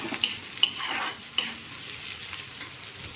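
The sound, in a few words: onions being stirred while frying in pan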